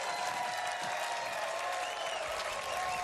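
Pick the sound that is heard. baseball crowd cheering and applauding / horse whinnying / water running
baseball crowd cheering and applauding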